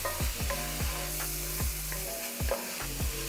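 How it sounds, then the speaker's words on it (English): Chili meat and garlic sizzle in a hot skillet while a utensil stirs them, giving repeated sharp scraping strokes at a steady rhythm over a constant frying hiss, close and alone. "Now I'll go ahead and stir."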